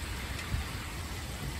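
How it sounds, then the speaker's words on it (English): Heavy rain mixed with hail during a severe thunderstorm, a steady dense hiss of drops close by with a brief low thump partway through. "It is raining with hail. Even it's thundering outside, too."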